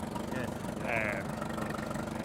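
A vintage stone crusher, a digger bogey driven by a tractor pulley at an outdoor vintage rally, runs with a steady low engine drone and rumble, with a brief higher whine partway through.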